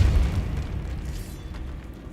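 A deep boom from the Depulso force spell in the game Hogwarts Legacy, loud at the very start and then fading into a low rumbling tail.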